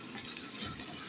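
Water pours steadily into a cooking pot for chicken afritada, a short continuous rushing splash, moderately quiet and close, with no talking.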